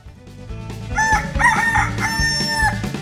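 A rooster crows loudly and close by in a long harmonic call across most of the clip, with hens clucking around it on a farm.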